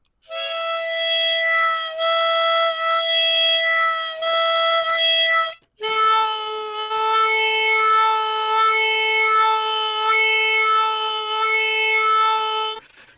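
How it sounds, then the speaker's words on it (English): One sustained blown note from a mouth has its overtones swelling and sliding as the tongue moves inside, held in two long stretches split by a brief pause, the second pitched lower, loud and alone. "And when I run my tongue up and down inside my mouth with a single note blowing out, it sounds like this"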